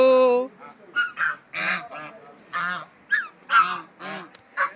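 Ducks at a large date palm farm in Jaisalmer give a close series of loud, nasal, honking calls, about eight bursts in uneven rhythm with short gaps between them.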